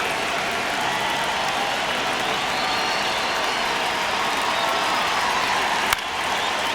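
A baseball stadium crowd in MLB The Show hums and applauds continuously during a tense one-run ninth inning, a loud, even wash of cheering with a single sharp crack near the end.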